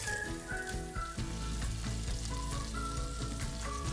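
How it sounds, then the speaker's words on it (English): Homemade chicken breakfast patties fry in a pan at home with a constant dense sizzle that holds steady throughout. Faint tonal beeps or music sit beneath the frying. "so we're gonna let them cook a couple of minutes on each side"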